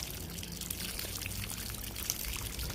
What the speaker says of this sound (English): I'm just using a hose to wet her off.